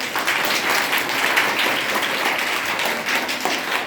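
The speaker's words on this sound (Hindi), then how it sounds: "तो बच्चे अपने लिए एक बार ताली बजाइएगा कस के।" Schoolchildren clapping loudly together at a Hindi Diwas event, a dense, energetic burst of many small hands, steady and close for the whole stretch.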